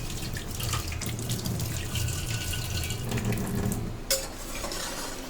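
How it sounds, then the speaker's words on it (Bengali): Water runs steadily from a kitchen tap as hands are rinsed beneath it in a home kitchen, a continuous close splashing with a brief clunk near the end. "হাতটা ভালো করে ধুয়ে নি"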